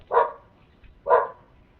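Two short dog barks spaced about a second apart, fairly close and clear with no talking, heard outdoors.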